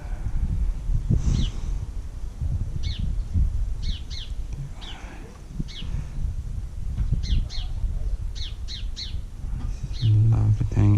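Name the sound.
birds singing outdoors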